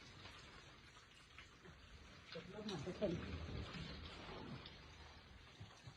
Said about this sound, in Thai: พามาดูฝนตกค่ะทุกคน ฝนตก